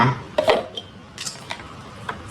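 An electric egg boiler has its lid closed, giving a few light plastic-and-metal clacks and rattles close by, with one stronger knock early and smaller taps after.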